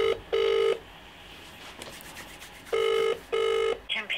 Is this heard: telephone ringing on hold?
yes